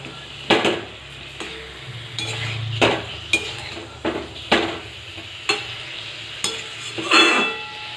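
Potato and cauliflower being sautéed together in a pan, with repeated close scrapes and clinks of a spatula against the pan about once a second over a low steady sizzle.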